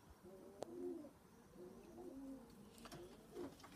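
Tippler pigeons coo softly in a loft, several low, throaty rolling coos spread across the clip, quiet and close, with faint rustling and no talking.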